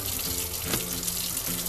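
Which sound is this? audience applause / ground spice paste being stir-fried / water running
water running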